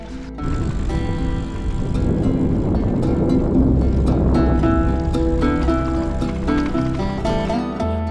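A Zizzo Forte folding bike rattles and clatters continuously down a rough mountain road, with dense vibration, wind rush and a steady low rumble throughout.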